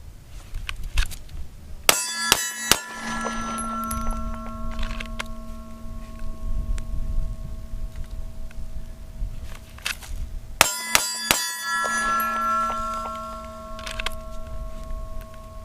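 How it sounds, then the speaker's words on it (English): Pistol rounds, 115-grain 9mm factory reloads, strike a 12 by 20 inch AR500 steel silhouette target in two quick bursts of sharp metallic clangs. Each burst rings out with a lingering tone, and there is no speech. "I'll also be doing some shooting on my AR500 steel target here"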